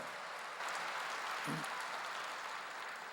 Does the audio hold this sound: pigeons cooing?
no